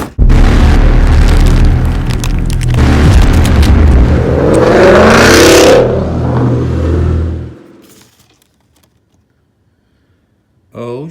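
A modified Ford Mustang engine revs loudly and close, a deep growl climbing through a throaty rise then dropping away to silence, with a short burst returning at the end; voices can be heard around it.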